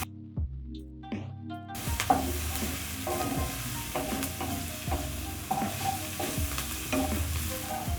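Vegetable spring roll filling sizzles loudly in a pan while a utensil stirs and scrapes it in a steady rhythm, following a brief musical phrase at the start, with no voices.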